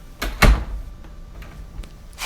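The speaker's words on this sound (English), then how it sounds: "Close the door, Drew." An office door closes with a solid close thunk, preceded by a lighter knock-like sound and followed by faint shuffling.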